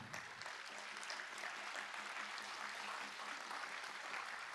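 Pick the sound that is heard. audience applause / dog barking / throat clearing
audience applause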